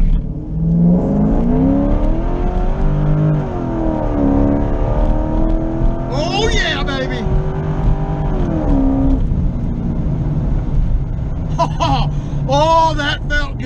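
A C5 Corvette on a 100-shot of nitrous makes a drag launch, its engine roaring and revving hard as it pulls away, with a speaker talking over the loud, sustained engine.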